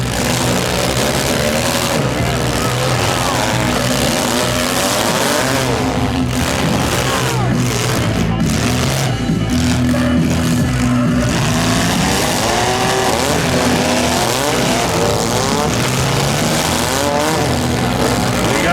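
Loud, continuous roar of several stock mini cars revving hard at a demolition derby in Schomberg, tires spinning and squealing as they strain for grip in the pit, in a crowded, noisy arena.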